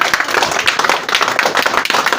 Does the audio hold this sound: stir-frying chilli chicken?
no